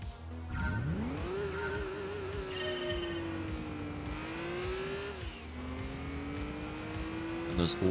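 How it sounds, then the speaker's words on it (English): A turbocharged car engine in Gran Turismo 2 revs up sharply and holds a rising, wavering drone, with brief tire squeal and a whooshing turbo character, heard fairly close under faint background game sound. "Those lovely turbo noises."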